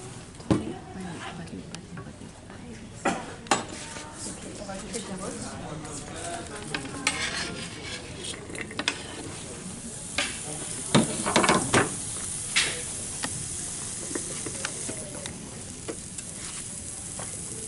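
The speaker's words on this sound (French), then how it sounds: "Et donc là, l'idée, c'est de les faire sauter un petit peu." Carrots sauté in a thin film of oil in a frying pan, giving a soft sizzle broken by scraping and clattering stirs, with a voice talking intermittently over the cooking.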